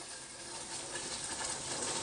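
Crab fries in masala in a pan, a faint, continuous sizzling hiss that stays even throughout with no voices.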